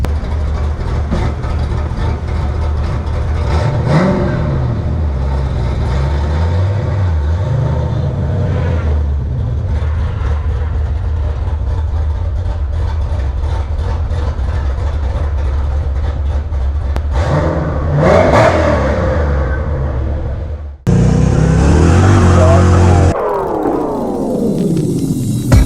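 A red Fox-body Mustang's engine runs steadily as the car pulls in, a loud continuous rumble that swells briefly, then a sudden shift to a harsher roar near the end, with no talking.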